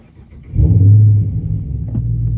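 A Dodge Challenger R/T engine turns over on a warm start and catches, rising into a short rev before settling into a steady rumbling idle.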